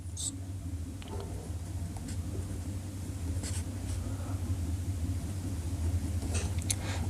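Pen or pencil scratching on paper as numbers are written out, a steady soft scribbling over a constant low hum, with a few brief taps and scrapes scattered through.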